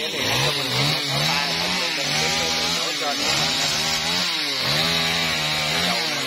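A G4500 chainsaw cuts into a huge dipterocarp tree near a market, its loud engine snarling and surging up and down in pitch as the chain bites and eases through the wood.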